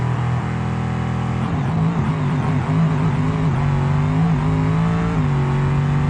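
A nitrous drag race car in the BeamNG video game makes a full pass, its engine roaring loud and steady throughout with rising pitch as it accelerates, no talk over it.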